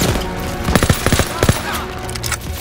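Call of Duty: WWII machine gun suppressive fire pours out in loud, rapid bursts of shots, clustered mid-clip over a rumbling battle backdrop.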